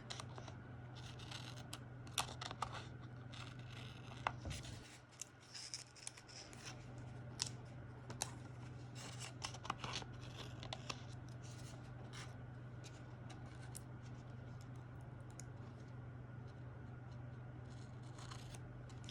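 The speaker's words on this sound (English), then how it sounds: "I'm going to trim that off." Scissors snip and trim paper in a quiet room, producing many small crisp cuts in uneven rhythm close to the microphone over a faint steady hum, with no talking.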